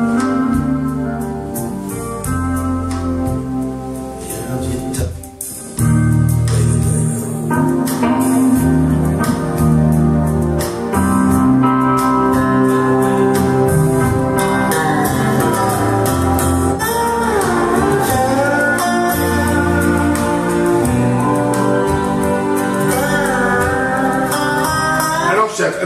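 Music plays loudly and continuously through an Accuphase E-202 integrated amplifier and hi-fi speakers, a full band mix with strong bass and rhythmic beats, heard alone without talk.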